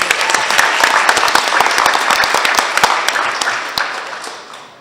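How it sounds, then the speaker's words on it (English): Applause at a school board of education meeting: sustained clapping from a seated audience, with sharp individual claps standing out, gradually thinning toward the end. "Please give them a round of applause as well."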